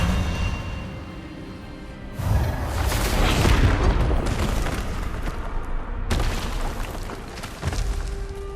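A spell-duel effect in Hogwarts Legacy: booming, explosive magical blasts burst in at about two seconds and again near six, with a dense crackling roar between them and a low rumbling bed beneath.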